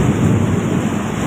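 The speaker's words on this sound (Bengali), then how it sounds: "2025 সালের সেরা বৃষ্টি" Steady heavy rain during a Kalbaishakhi storm, with a dense hiss of drops and a deep low rumble of thunder underneath, filling the whole brief moment without any voices.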